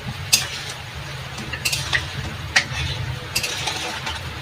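Gulab jamun balls fry in a pan of hot oil with a continuous sizzling hiss, broken by several sharp clicks and scrapes of a utensil stirring and touching the pan, fairly close with no talk.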